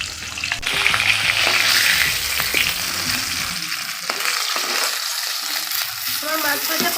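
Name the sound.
fish frying in oil in a wok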